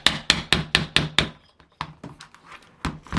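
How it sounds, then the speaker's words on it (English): Sharp, close wooden-edged knocks from tapping a part off a Saito FA-300T model aircraft engine against a wood block, six rapid evenly spaced hits followed by a few lighter, scattered taps. "I'm going to have to keep just kind of tapping it here."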